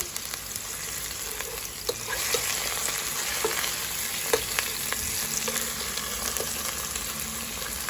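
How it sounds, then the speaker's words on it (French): Tomatoes frying in a pan give a steady, dense sizzle, broken by occasional light scrapes of a spoon as they are stirred. "Là, je suis en train de mélanger mes tomates."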